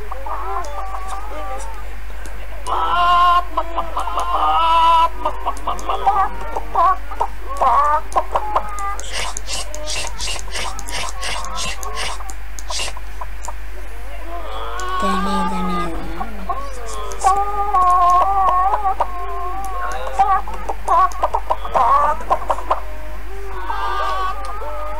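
Cartoon chickens cluck and cackle in the hand-drawn hide-and-seek game Hidden Folks, on a crazy farm level, in short repeated bursts over a steady background hum and other small game sounds.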